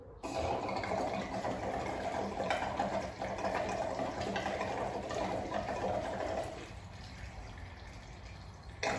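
Juice pours steadily into a jug until it overflows, a continuous rushing and bubbling gurgle that holds for several seconds, then thins and softens toward the end.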